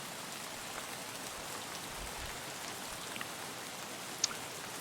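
Faint, continuous rain in the video game Escape from Tarkov, an even hiss of drops with an occasional tiny click, heard alone and without voices.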